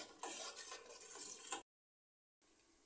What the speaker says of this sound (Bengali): মিশিয়ে নিব ভালোভাবে।